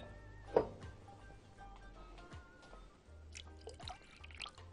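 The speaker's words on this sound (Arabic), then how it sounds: "هضيف له شوية مية" Water poured from a cup into eggs in a home kitchen for batter; a quiet, faint trickle with a sharper splash near the start, then soft intermittent liquid sounds.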